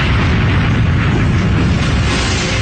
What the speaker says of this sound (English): 1 million pounds of TNT are detonated to simulate the blast of an atomic bomb